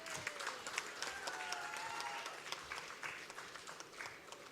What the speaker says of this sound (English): So why is he not getting the claps